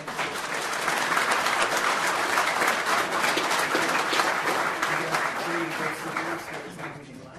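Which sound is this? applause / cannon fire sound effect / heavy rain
applause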